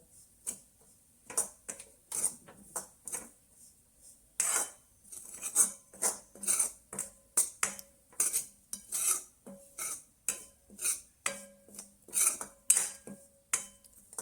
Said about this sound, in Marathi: मी इथे डेसिकेटेड कोकोनट वापरलेलं आहे हे हलकंसं भाजून घ्यायचं आपल्याला